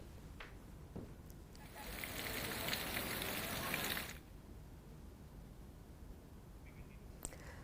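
Heavy rain pours down in the hilly Sundha Mata area of Jalore, Rajasthan, swelling to a loud, dense roar for about two seconds before dropping back to a fainter steady patter.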